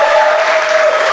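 A live stand-up comedy audience claps steadily and loudly, a dense, even wash of applause with no pauses.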